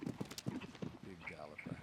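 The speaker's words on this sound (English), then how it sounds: "Big galloping horse." A big horse galloping through a show jumping arena during a jump-off, its hooves drumming in a quick rhythmic beat beneath continuous commentary.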